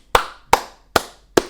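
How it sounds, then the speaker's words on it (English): Four sharp, evenly spaced hand claps, close and loud, each ringing out briefly before the next, with no voices. "So I just wanted to start this video today by just giving a round of applause."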